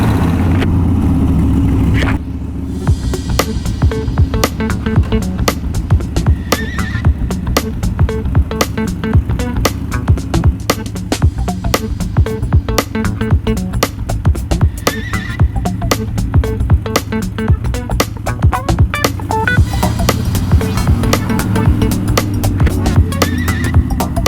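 A Harley-Davidson Iron 883 Sportster being ridden, with a loud, steady engine drone and rapid rhythmic pulsing under heavy rushing wind throughout.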